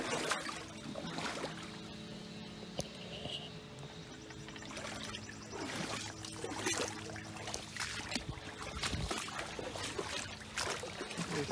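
Water trickles and pours steadily out of a broken-up dam in a roadside ditch, a continuous splashing flow with intermittent louder splashes and rustling as debris is disturbed, close and fairly quiet.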